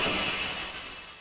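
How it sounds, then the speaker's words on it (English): A synthesized alarm preset from the Noctua synth plugin: a dense, bright, sustained electronic tone with steady high partials, loud throughout and gradually fading over about a second. "It's definitely an alarm."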